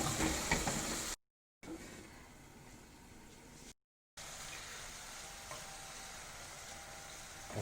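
Vegetables for a pizza topping sizzle steadily in a pan, a continuous close hiss with two brief dropouts and faint stirring noises.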